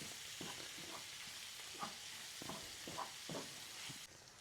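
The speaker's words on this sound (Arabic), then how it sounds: "نخلطوا الحباق مع هاد المكونات مزيان وحنا طافيين العافيه" Basil being stirred into a savory filling in a pan with the heat switched off: faint, rhythmic scraping strokes about every half second over a soft, steady hiss, with no talk.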